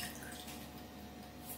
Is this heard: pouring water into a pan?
yes